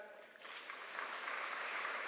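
Audience applause at a college freshers induction programme, a broad, moderately distant wash of clapping that swells and holds steady, with a faint voice briefly near the start.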